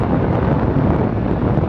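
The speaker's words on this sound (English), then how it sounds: "Sorry about the wind. It is getting super windy from the rain." Strong gusty wind buffets an outdoor microphone during rainy, stormy weather at an airport, a loud continuous low rumble that fills the whole moment without any talk.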